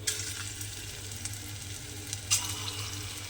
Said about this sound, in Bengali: প্রথমে ছোট ছোট করে আমাকে তেলের মধ্যে দিয়ে দিতে হবে